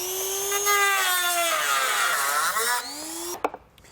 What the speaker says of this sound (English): We now need to trim this panel right here.